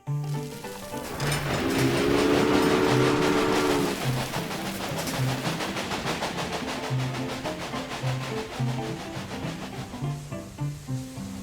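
Steady rumbling and clattering of a train on rails in the video game Railway Empire, mixed with repetitive game music, continuous and moderately loud.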